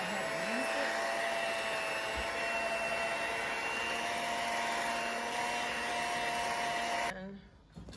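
Electric mixer whirring steadily through chess pie filling in a home kitchen, a loud continuous motor drone held close for about seven seconds before cutting off abruptly, followed by brief quiet handling.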